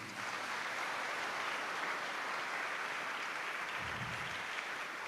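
Sustained applause from an audience at a bishop's nomination ceremony for the Mavelikara diocese, a steady dense wash of clapping that fills the whole stretch without pause.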